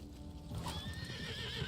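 Horse in the Love and Deepspace video game, a rising whinny followed by the rhythmic clatter of galloping hooves under a swelling musical score, moderately close.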